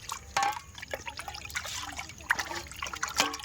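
Water trickles and splashes in short, uneven pours into wheat flour in a bowl, with soft drips and wet mixing sounds close up.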